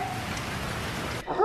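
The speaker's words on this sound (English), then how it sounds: "I think it's supposed to be a steady rain like this all day." Steady rain falls during Hurricane Irma as an even, broadband hiss that runs without a break, then drops off suddenly near the end.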